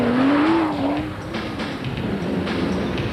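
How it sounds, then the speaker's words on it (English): Inside the cockpit of a turbocharged Toyota Hilux off-road racer at the Roof of Africa rally, a loud, close engine roar with a rising whine and rumbling vehicle and terrain noise throughout. "Racecam provides a brief sample of what life is like in the cockpit of an off-road racer."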